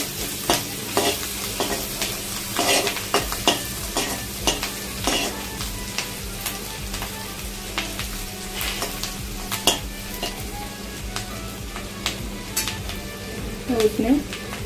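Green chillies frying in a pan for a veg cheese frankie, a steady close sizzle broken by frequent stirring scrapes and clinks of a spoon against the pan.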